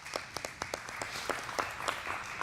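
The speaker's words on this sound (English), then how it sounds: "Yeah, we can clap for that." A small group claps at a weekly Torah study session: a brief patter of scattered hand claps, moderately close but quiet, with irregular individual claps over a soft room background.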